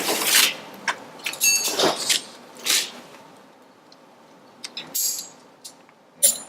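Ratchet with a stubby socket working on a Cummins N14 engine during a cam follower oil leak repair, bursts of scraping clicks and rattles close by, separated by short pauses.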